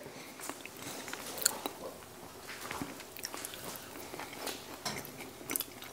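Someone chews freshly harvested sweet potato, close up, with soft repeated crunching bites and moist chewing, no talk.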